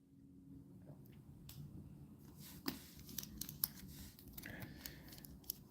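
Foil trading card pack from 1996 SkyBox Prophet (Image Comics) being torn open, a quiet crinkly rustle with several small sharp tearing snaps scattered through, close up and alone.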